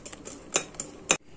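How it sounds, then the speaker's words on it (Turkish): Labneh and whipped cream being whisked together in a bowl, a light ticking clatter of the whisk against the bowl with two sharper clinks standing out, no talking. "Krem şantimizi de beraber çırpıyoruz."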